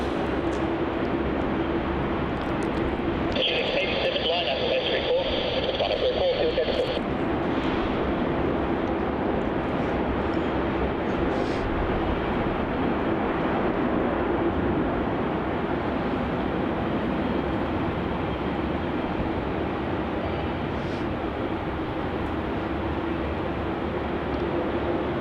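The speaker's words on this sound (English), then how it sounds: "This is Qantas flight QF1511 from Canberra, another 717-200." A Qantas Boeing 717-200 arriving from Canberra at Melbourne Airport gives a steady, loud jet roar that lasts the whole time, with a brief higher whine partway through.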